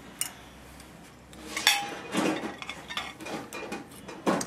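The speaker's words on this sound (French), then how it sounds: "on va écraser un peu notre beurre avec nos sardines" Soft unsalted butter mashed together with sardines in a bowl, heard as a scattered series of utensil scrapes and small clinks against the dish, close and moderately loud, with no talking.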